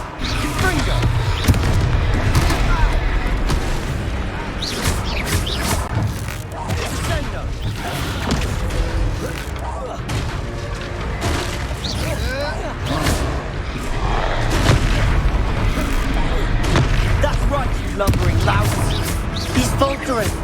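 Confringo blasting spells go off in the video game Hogwarts Legacy, a dense run of booming impacts and crashing hits mixed with battle effects and music, loud and continuous, with character voices calling out between blasts.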